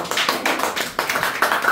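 A church congregation applauds for the Lord, a brisk burst of rhythmic hand claps in quick, even beats, close and fairly loud, with no talking over it.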